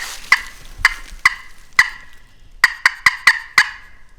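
A wild turkey gobbles repeatedly in the open outdoors, loud rattling bursts arriving first singly and then in a quick cluster, with no voices over them.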